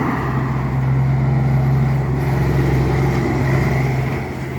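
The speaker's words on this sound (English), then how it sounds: "Machine. Bad Kenworth T800." A Kenworth T800 truck runs nearby with a loud, steady low engine rumble that swells slightly and eases off toward the end.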